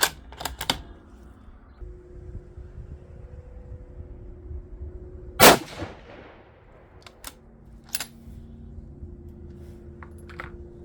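Single rifle shot from a Savage 110 in 6.5 Creedmoor firing 145-grain Match Burner loads, one loud sharp crack with a short decaying tail, followed by faint clicks and handling noises.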